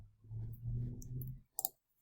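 A computer mouse clicks while options are selected in Adobe Spark, with a sharp double click sounding close and alone after a low hum fades out.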